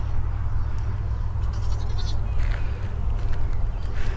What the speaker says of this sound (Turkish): Evet keçi oradan bağırıyor.